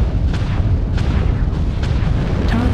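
Artillery strike explosions in MechWarrior Online, a dense, loud, continuous low rumble with repeated heavy booms roughly every half second, close and overwhelming.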